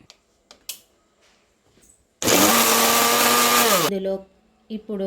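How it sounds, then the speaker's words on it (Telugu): A mixer grinder blending chillies with salt whirs loudly for about two seconds, a steady high-pitched motor roar that then winds down, with brief soft clatter before and after. "ఇప్పుడు వీటన్నిటిని మిక్సీ పట్టుకుందాం."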